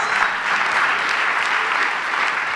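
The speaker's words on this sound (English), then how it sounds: "A round of applause." A conference audience at a business talk breaks into applause, loud continuous clapping from many hands that holds steady throughout without letting up.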